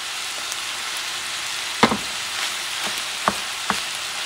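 Rice stir-fried in a hot pan gives a continuous sizzling hiss, broken by a few sharp scrapes and knocks of the spatula mixing it, close and fairly loud.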